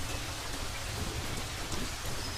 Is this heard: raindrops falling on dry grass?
yes